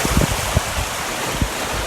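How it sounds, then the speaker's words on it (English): Ocean waves breaking close against coastal rocks, a steady roar of surf and wind noise with several sharper low thumps as waves hit nearby, no voices. "And that wave was a little bit close."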